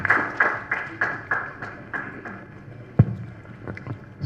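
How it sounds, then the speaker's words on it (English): An online medical meeting audience claps for a speaker named Swati, a thin scatter of distinct claps repeating every half second or so, faint and close, fading out after a few seconds. "Another big round of applause for Swati"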